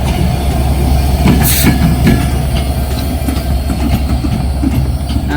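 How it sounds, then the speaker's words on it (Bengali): The locomotive of the Drutojan Express rumbles past up close near the Jamuna River, loud and continuous, with a low engine drone and rhythmic wheel clatter over the rails. "এই যে এই লোকোমোটিভটা কিন্তু আমাদের এই ট্রেনটাকে নিয়ে আসলো"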